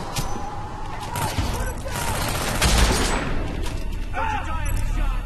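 Shotgun blasts in the stealth action game Hitman: Absolution, a few booming shots mixed with game ambience and distant gunfire, with talk over them.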